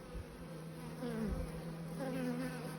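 Buckfast honey bees buzz steadily in a close, continuous drone, with several overlapping wingbeat tones rising and falling as individual bees move near the hive.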